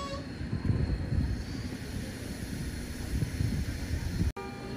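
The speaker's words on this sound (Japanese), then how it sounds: "783系は発車していった" A JR Kyushu 783 series electric train pulling away in a steady broadband rumble and hiss at moderate distance, with a brief dropout just before the end.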